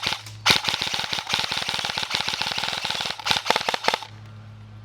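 Lancer Tactical PPK20 AEG airsoft gun firing in burst mode, delivering rapid close, loud clusters of sharp mechanical shots with brief pauses between bursts over a low motor hum.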